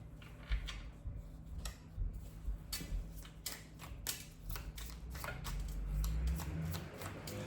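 Tarot or angel cards are shuffled by hand in a series of crisp riffling bursts and soft taps, close and alone, with a low steady hum underneath.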